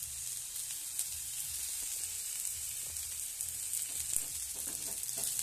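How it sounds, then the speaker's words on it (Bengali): Ginger-cumin paste fries with potatoes in a pan, making a steady, close sizzle and hiss with light stirring scrapes throughout. "আদা জিরে বাটা দিয়ে দিচ্ছি।"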